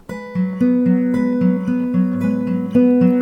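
Plucked acoustic guitar notes ring out in a steady picking pattern, each note sustaining into the next, clear and close with no voices.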